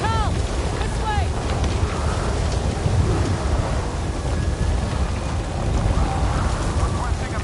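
A video game storm rages with driving rain and gusting wind in a constant dense roar, low thunder rumbling underneath and swelling at moments.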